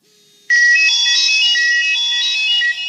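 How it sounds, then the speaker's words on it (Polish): A myPhone mobile phone rings with an incoming call, a loud electronic ringtone that starts abruptly after a near-silent moment and keeps sounding steadily to the end. "wybieram do siebie numer i zaraz nasz telefon zadzwoni"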